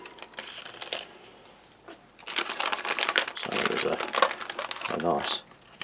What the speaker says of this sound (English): So open that little tear strip.